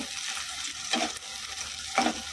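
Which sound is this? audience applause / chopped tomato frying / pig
chopped tomato frying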